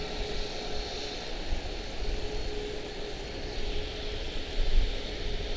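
A Boeing 737 MAX 8 from Chicago Midway at Charlotte-Douglas International airport, heard as a steady, distant jet roar with broadband rushing noise and a low hum, swelling slightly toward the end.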